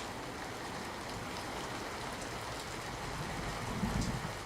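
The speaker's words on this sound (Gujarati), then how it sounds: "મોડાસા શહેરમાં ફરી ધોધમાર વરસાદ વરસ્યો છે।" Heavy downpour in Modasa town, Aravalli district, with waterlogged roads: a steady, dense hiss of rain continues throughout at an even level, swelling slightly near the end, with no talk.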